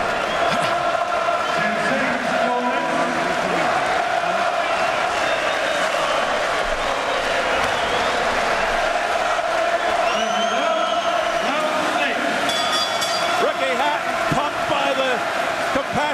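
Loud, dense boxing crowd roaring and cheering continuously at the Manchester Evening News Arena for Kostya Tszyu vs Ricky Hatton, with a voice talking over the din.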